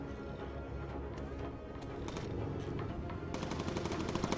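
Machine gun fire from a World War II bomber aircraft game crackles in dense, rapid bursts that run throughout and grow sharper and more intense toward the end, over a constant background rumble.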